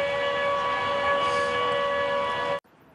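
A loud, steady wailing air raid siren in Uzhhorod, Ukraine, holds one sustained tone, then cuts off abruptly, leaving quiet background.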